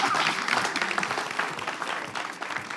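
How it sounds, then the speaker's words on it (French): Studio audience applause for a winner on a game show semi-final, a lively burst of many hands clapping that starts strong and gradually tapers off over nearly three seconds. "Applaudissements pour elle."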